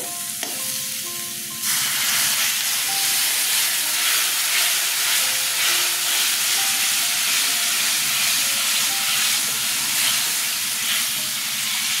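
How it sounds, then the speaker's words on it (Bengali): Water pours onto fried spice masala in a pan for a rohu fish curry tempered with green chilli and nigella seeds, bursting into a loud, sustained hiss and sizzle that steams on steadily. "কষানো হয়ে গেছে, জল দিয়ে দেবো।"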